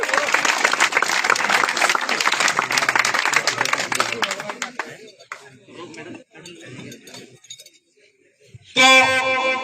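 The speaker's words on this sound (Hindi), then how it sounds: "तो इनके लिए भी जोरदार तालियां।" Crowd applause at a 5 km running race prize ceremony honoring a finisher: dense clapping for about five seconds, then thinning into scattered claps and murmurs, with a brief clinking burst near the end.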